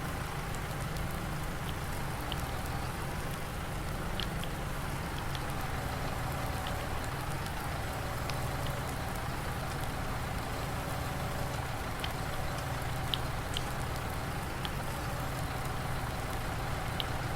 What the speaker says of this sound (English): Not ideal to do this in the rain, really